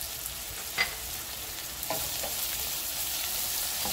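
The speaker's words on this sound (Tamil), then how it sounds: "வெங்காயம் நல்லா வதங்கட்டும்." Sliced onions with a little salt sautéing in oil for a Madurai-style spicy mutton curry, with a constant close sizzle, a brief clink of the utensil and the frying growing slightly louder partway through.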